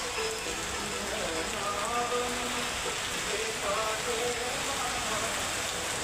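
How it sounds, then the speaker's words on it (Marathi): Morning rain falls steadily on a garden, a dense even patter of drops spread across the whole stretch with no break, heard fairly close and without talk. "सकाळी सकाळी पावसाने सुरुवात केली आहे."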